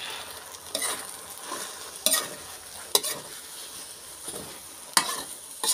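Mama instant noodles stir-fried in a pan: a steady broadband sizzle with sharp spatula scrapes and clanks landing irregularly every second or so, close and alone with no voices.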